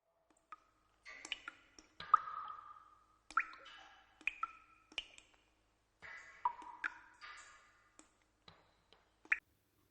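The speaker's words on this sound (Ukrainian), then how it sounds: "Коли вода капає з даху, чується стукіт, ніби хтось постукує легеньким молоточком." Water drips from a roof in irregular light drips and clicks, each a short sharp tap with a faint ringing tail, scattered unevenly over several seconds in a quiet setting.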